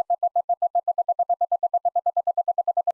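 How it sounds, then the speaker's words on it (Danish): Guidance beeps from the OOrion phone app helping to center the camera on text: a rapid, evenly spaced train of short pure-tone pips, about eight per second, clear and alone. "Center kameraet på teksten ved at følge ledsignaler."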